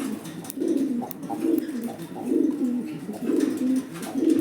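A pair of Lahori pigeons cooing close by, a steady series of soft, low, throaty coos repeating in rhythmic phrases with no talking.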